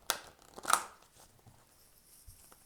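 Tarot cards riffled and drawn during a weekly energy reading, two short papery bursts of shuffling close by with quiet pauses between, no talking.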